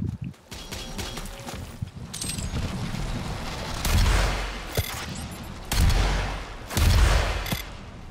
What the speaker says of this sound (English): I like that you can just like detonate the rockets.